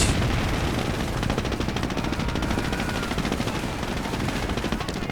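Sustained machine gun fire rattles loudly and continuously in a real-time strategy battle with tanks and grenadiers, a dense unbroken burst of rapid shots lasting several seconds.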